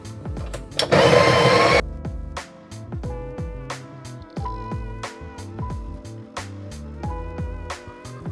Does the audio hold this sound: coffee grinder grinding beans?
yes